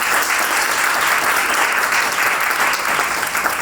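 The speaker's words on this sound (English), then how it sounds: "Can we give him a round of applause?" An audience claps for Dr. Goff at a talk on heart-disease deaths among African Americans and women, dense steady applause from a crowd filling the room for a few seconds, loud and unbroken.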